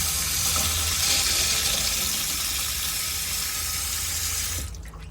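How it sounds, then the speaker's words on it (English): A pressurized pump-fed tap in an Autosleeper Executive motorhome runs a steady, close, broadband gush of water for several seconds before it is shut off near the end. "whenever I get to any of the taps, I'll have pressurized water coming out."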